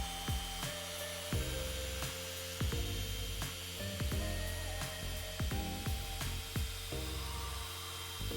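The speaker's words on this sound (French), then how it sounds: "on va passer la polisseuse sur tout le bloc, lentement, mais sans s'arrêter" A handheld polishing machine whirs over a Renault Clio 2 headlight in a steady, close, moderate drone, its pitch dipping and recovering repeatedly as the pad presses and moves across the plastic.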